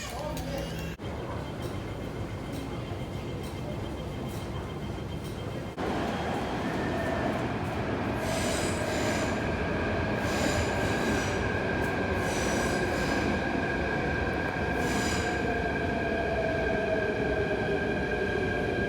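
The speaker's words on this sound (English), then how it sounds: "So let's spot some trains." A metro train rumbles along a platform at Tung Chung Station, its wheels squealing and steel screeching in repeated bursts over a steady mechanical drone, with people talking faintly in the background.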